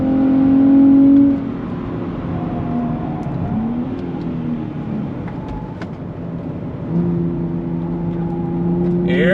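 A 2023 Nissan Z Performance engine revs hard under spirited driving, with pitch climbing and dropping across paddle-shifted gear changes, steady and close throughout without talk.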